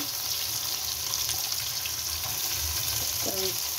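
Onions, added in a generous amount, fry in oil for a braised beef brain dish, giving a steady close broadband sizzle with faint clinks of stirring near the end and no talking.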